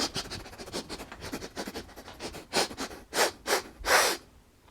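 A person sniffs at a newly unboxed Warhammer Ironjawz Tuskboss miniature with a series of short, close nasal inhales that grow louder and sharper toward the end.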